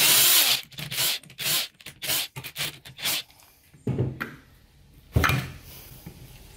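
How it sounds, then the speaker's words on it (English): Impact wrench removing 13 mm bolts from the pump separator plate of a 4L80E automatic transmission, a string of short loud rattling bursts, then a pause and two more isolated bursts, close up. "I'll just use the impact, and these are just 13 millimeter bolts"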